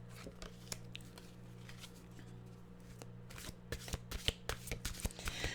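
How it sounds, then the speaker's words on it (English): Mantra cards are shuffled close by, a quiet series of crisp riffling flutters and taps that quicken and grow louder toward the end. "let's get a mantra card,"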